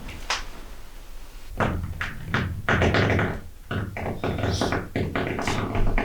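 Several knocks and thuds, like a door being handled and pushed, with irregular clunks and a short rattle close by.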